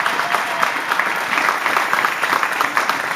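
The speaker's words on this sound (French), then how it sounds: "Est-ce qu'on peut acclamer très fort pour la gloire de Dieu?" A church congregation claps loudly and continuously in dense, uneven applause during a service, with no voices standing out.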